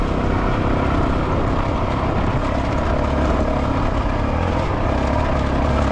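A dirt bike engine drones loud and steady in third gear while climbing a wet, rooty singletrack trail, with a dense continuous roar up close.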